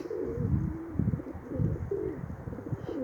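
Pigeons in a breeding loft coo in low, repeated rolling calls, several birds overlapping close by, with faint chirps and a brief rustle of movement.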